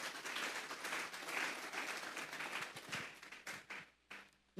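Church congregation applauding together, a dense sustained clapping that holds steady for several seconds, then thins into a few scattered, separate claps as it tapers off.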